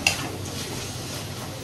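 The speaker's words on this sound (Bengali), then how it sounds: "আর এই যে এখন চিকেনের মশলাগুলো কষিয়ে নিয়েছি, পেঁয়াজ টেয়াজ ভেজে নিয়েছি" Chicken pieces coated in masala with fried onion sizzle steadily in a hot pan while a spoon stirs and scrapes, a close continuous crackle with a small clink at the start and no voices.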